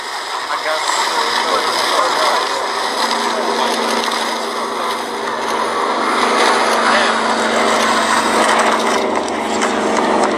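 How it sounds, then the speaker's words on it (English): A Douglas Dakota 3 of the Battle of Britain Memorial Flight passing at an air show, a loud continuous broadband piston-engine roar sustained throughout, with a commentator's voice over it. "This is the final pass, though, by the Dakota 3 of the Battle of Britain Memorial Flight."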